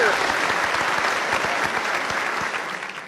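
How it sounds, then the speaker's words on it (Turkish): Crowd applause for a guest called up on a Turkish comedy street show, dense steady clapping close by that holds throughout and eases slightly at the end. "Ya bir alkış kardeşim"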